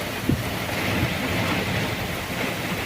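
Very heavy afternoon rain and strong wind beside a railway line in Kalibaru, Banyuwangi, form a dense, steady roar that fills the whole clip, with a few low gusty thumps.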